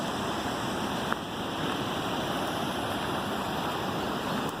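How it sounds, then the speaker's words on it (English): A small stream and waterfall in Krka National Park rush steadily nearby, a constant broadband wash of flowing water with no voices. "There's a little stream right here. Wow, that's nice right there. Waterfall."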